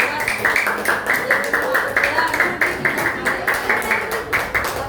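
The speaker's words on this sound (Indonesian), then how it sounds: "Tepuk tangan dong buat kelompok dari" A classroom of students claps in rhythmic, evenly spaced beats for a student group, a steady cheer of group clapping that runs for several seconds, with voices faintly mixed in.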